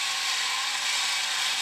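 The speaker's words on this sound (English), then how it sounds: "We got a motor running at least." A battery-powered toy robot, a Chinese reproduction of a Japanese Space Walk Man, whirs with a small motor running steadily, a constant buzzing whine with no talk.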